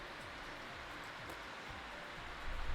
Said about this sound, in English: Sorry if you hear stuff in the background, it's raining